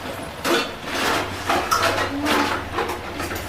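Malabar spinach tipped into a wok of vegetables, giving a loud close rustle and scrape with a few clanks of utensil on metal and a steady low sizzle underneath.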